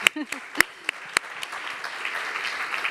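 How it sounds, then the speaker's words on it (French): A few scattered claps start up, then a light patter of applause from a small audience at a round-table discussion continues softly. "Vous pouvez applaudir dès maintenant."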